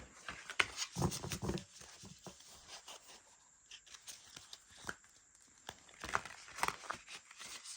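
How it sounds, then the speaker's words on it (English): A tarot card deck is waterfall shuffled, giving quick papery riffling bursts and crisp card flutters in short clusters, close and fairly quiet, with pauses between. "it does waterfall shuffle pretty well though"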